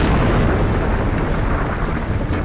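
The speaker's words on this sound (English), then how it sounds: "A series of massive explosions created a crater a mile wide." Massive explosions from a volcanic crater forming: a loud, continuous, churning roar of blasts with no break, dense and rumbling from start to finish.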